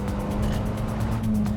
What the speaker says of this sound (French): La voiture de Jonathan atteint 120 km/h en quelques secondes,